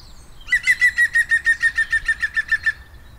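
A European green woodpecker gives its laughing call: a fast run of about fourteen loud, ringing notes at a steady, slightly slowing pace, slightly falling in pitch, heard clearly and alone against faint background rumble.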